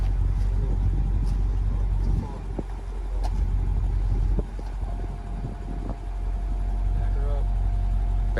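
A BMW M550i xDrive reverses under remote control parking, its engine a steady low rumble close by while several people talk and shout over it.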